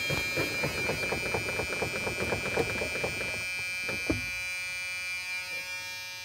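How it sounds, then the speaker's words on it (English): A low air pressure warning buzzer in a truck sounds as a steady electric buzz that holds for several seconds, with rhythmic mechanical pulsing behind it at first that then drops away, leaving the tone alone. "my warning light or buzzer will come on"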